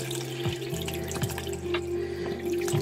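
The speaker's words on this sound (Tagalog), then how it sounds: "Lagyan lang natin siya ng water." Water from a tap runs steadily into a container for 2 liters of cold fruit water, with a continuous close hiss and a few splashy drips and knocks over about three seconds.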